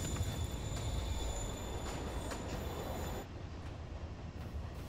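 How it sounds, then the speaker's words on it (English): Subway train pulling away in the game Marvel's Spider-Man Remastered, a steady loud rumble of rolling wheels with faint high metallic squeal and clatter, continuous throughout and easing slightly near the end, with no voices. "Train moving."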